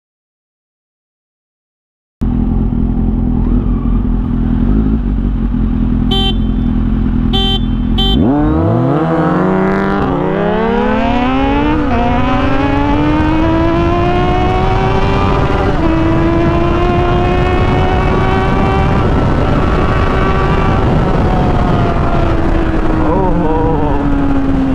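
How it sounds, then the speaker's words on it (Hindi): Kawasaki Z900 and Z800 motorcycles launch in a drag race, engines revving loud and close, then screaming up through the gears with rising pitch sweeps and shifts as they pull away. "काफ़ी डिस्टेंस आ गया यार Z800 और Z900 के बीच में, क्योंकि इस बार पहले गियर चेंज कर दिया मेलो ने, टायर उठने नहीं दिया"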